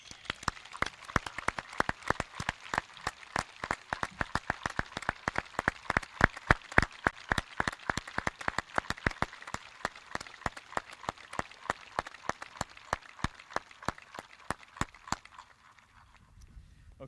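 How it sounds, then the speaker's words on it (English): Audience at a 2020 class of PDS graduation ceremony applauding steadily for about fifteen seconds, dense clapping with sharp individual claps standing out, then fading away at the end. "Ladies and gentlemen, please join me in applauding the 2020 class of PDS."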